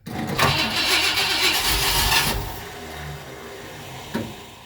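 A 1959 Ford Fairlane Galaxie 500 with a suspect starter cranks loudly and raggedly for about two seconds, then drops to a lower rumble, followed by a single sharp knock.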